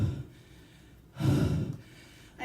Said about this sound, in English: I didn't plan to heavy breathe